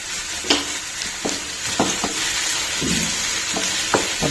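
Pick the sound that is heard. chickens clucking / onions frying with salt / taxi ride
onions frying with salt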